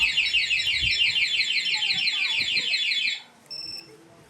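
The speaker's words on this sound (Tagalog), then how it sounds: "Tapos mag-a-alarm pa, makakatawag pansin sa mga nakapaligid po" The alarm on a Honda Click V3 scooter blares loudly, a rapid rising and falling electronic siren that runs for about three seconds and then cuts off, followed by a brief pair of short beeps.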